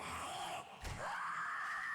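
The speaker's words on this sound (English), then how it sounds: "Ah, she got that scream off. There's another screamer right there." A screamer zombie in the video game 7 Days to Die lets out a sharp scream that rises and sustains over steady game background noise.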